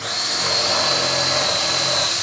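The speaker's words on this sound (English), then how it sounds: "So now if I drill right through the existing holes" A power drill whines steadily and loudly for a couple of seconds, drilling through existing holes in a bench leg, one continuous run at high speed with a slight pitch wobble.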